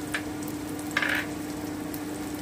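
Crushed ginger and almonds frying in a pan over medium gas heat, a steady low sizzle with a brief brighter hiss of spatter, no talking.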